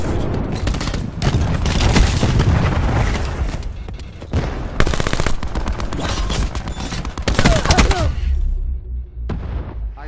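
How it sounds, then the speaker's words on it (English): Cluster grenade blasts in Black Ops 4 burst in a loud, crowded barrage of booms and crackling gunfire, pounding repeatedly before tapering to a low rumble near the end. "Cluster grenade going out."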